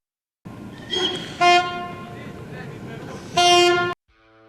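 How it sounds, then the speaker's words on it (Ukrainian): A passenger train pulls out of Lviv station bound for Przemyśl, sounding a loud sustained horn in two long blasts over a steady rail rumble, heard close and without talk. "як потяг до перемишля відправляється з Львівського вокзалу"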